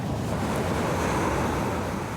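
Large ocean waves pound Coco beach in Nicaragua with a steady, dense roar of surf. The wash runs continuously at a fairly constant level, with no voices over it.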